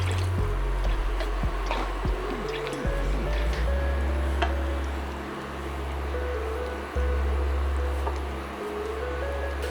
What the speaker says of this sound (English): We're going to go in with our chicken stock.